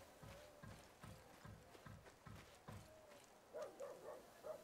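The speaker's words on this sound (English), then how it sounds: "A horse and tack." Hooves of a horse in tack clop at a steady walking rhythm, about eight even strikes, faint and somewhat distant, followed by a few higher soft squeaks or whimpers.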